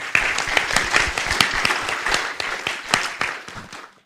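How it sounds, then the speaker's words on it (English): An audience at the Ketagalan Forum Indo-Pacific security dialogue applauds its panelists, with distinct individual claps standing out in an uneven, moderately sized round that tapers off toward the end. "I'd like us all to give a round of applause to our panelists."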